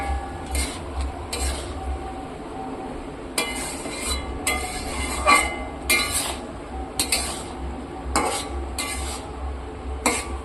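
Fried eggs stirred through a thickening chilli sauce in a pan for egg chilli, a spatula scraping and clinking against the metal in irregular bursts, close and moderately loud.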